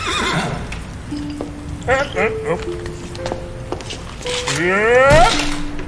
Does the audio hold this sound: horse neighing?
yes